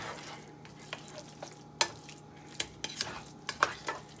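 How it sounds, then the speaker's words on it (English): Spoon stirring Filipino champorado, a chocolate rice porridge, in a pot, with soft scraping swirls and several sharp clinks of utensil on the pot rim, close and alone with no talk. "And you can just mix that in and it should just melt right into the champorado."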